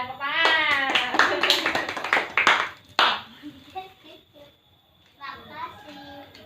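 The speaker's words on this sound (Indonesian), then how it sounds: "Ya, betul, tepuk tangan." Audience applause during an anti-corruption education talk, a burst of clapping for about three seconds followed by scattered claps and children's voices.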